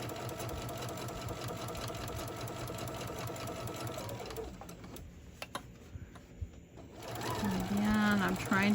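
A sewing machine runs in steady bursts while top stitching fabric for an iPad sleeve, stopping for a few seconds with faint clicks before whirring again up close.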